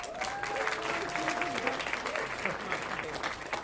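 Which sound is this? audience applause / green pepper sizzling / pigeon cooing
audience applause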